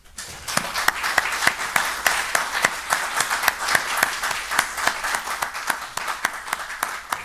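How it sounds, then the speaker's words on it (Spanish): Audience applause for a lecturer at a conference on hospitals and medicine along the Camino de Santiago, steady and sustained clapping from a sizable crowd filling the room, with distinct individual claps standing out over the continuous wash. "me gustaría que lo recibiésemos con un fuerte aplauso"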